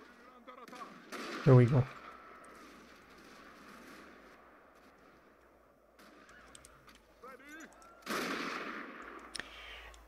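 Gunfire and artillery from a 19th-century Total War battle sound in scattered bursts, with one loud blast early and a denser volley later, while a voice briefly speaks over them.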